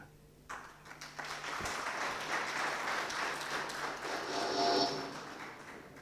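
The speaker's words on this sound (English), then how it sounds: "Remember, we are also allowed to give a round of applause." Audience at a university graduation ceremony in Rwanda breaking into applause, a dense wash of clapping that swells after a short quiet start and holds steady, heard from a moderate distance.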